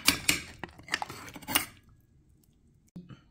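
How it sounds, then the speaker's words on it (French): A metal ladle clinks and scrapes against a sieve while straining fish soup sauce, a quick run of sharp clatters followed by near silence and one last soft tap. "avec la louche, je vais prendre le jus de la sauce et venir bien tamiser tout ça"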